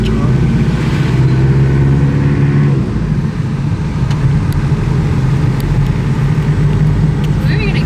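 A 1995 Toyota Hilux with a 2.8L diesel engine and manual gearbox drives along, its loud, steady engine drone filling the cab and easing slightly partway through, with voices present.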